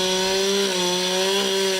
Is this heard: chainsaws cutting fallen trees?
yes